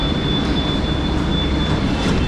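A Mumbai local train near Marine Lines station rumbles loudly and steadily, a dense close roar of rolling carriages with a faint high whine running throughout.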